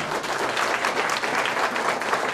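An audience at a regional Miss Polonia beauty pageant in Poland claps steadily throughout, a dense patter of many hands at moderate loudness.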